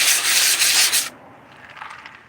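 Sandpaper rubbing the crusty dried skin off a gourd, a loud harsh scratchy stroke for about a second, then quieter lighter rubbing afterward.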